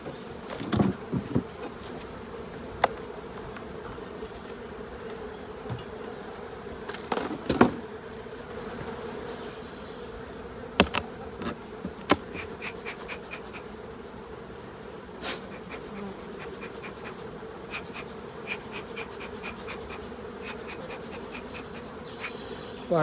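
Honeybees buzz steadily around a beehive while the hive is smoked before a honey super is added. A dense, continuous hum carries throughout, with occasional sharp clicks and knocks from hive handling close by.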